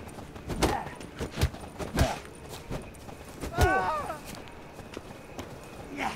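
Horse hooves clip-clopping in The Witcher 3, several heavy irregular thuds close by, and at one point a horse whinnies, all under shouted voices.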